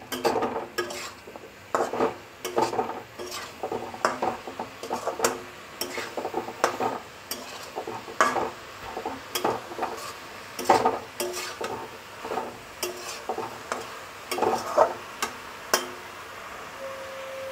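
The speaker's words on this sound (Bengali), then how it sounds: "এখন নেড়ে চেড়ে মিশিয়ে নিচ্ছি।" A spoon stirs and mixes cabbage curry with raisins and green chillies in a metal pan, giving steady irregular scraping clinks and taps close by, with a faint sizzle beneath and no talking.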